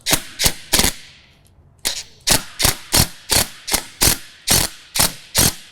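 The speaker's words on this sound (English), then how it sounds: "And we'll get our 10mm wrench, get that on." A 10mm ratcheting wrench tightens a bolt on a John Deere Z735M zero-turn mower mounting kit, giving crisp, close ratchet clicks in a steady rhythm of about a dozen strokes, with a short pause after the first few.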